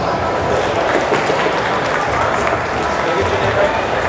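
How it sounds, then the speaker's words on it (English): An audience gives a big round of applause to welcome a guest speaker, thick continuous clapping with a crowd murmur and a few voices mixed in, sustained at a steady level. "Give her a big round of applause"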